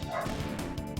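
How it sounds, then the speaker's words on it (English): Several dogs barking and yipping in the background, short overlapping barks at close range with a brief whimper, no talk over them. "pardon me if you hear a bunch of dogs barking in the background"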